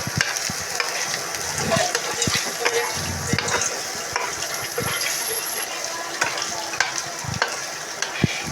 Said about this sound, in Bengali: এখন আতিফা ভালো করে কষায় নিচ্ছে